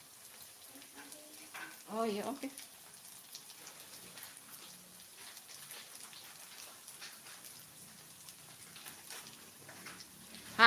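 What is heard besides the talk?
tempeh sizzling while frying in oil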